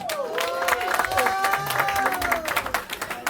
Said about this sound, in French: On les applaudit, mesdames, messieurs.